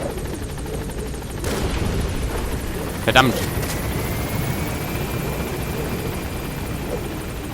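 A helicopter hovering overhead in Metal Gear Solid 5: The Phantom Pain, a steady close rotor drone filling the whole stretch, with a short sharp burst midway and someone briefly speaking over it.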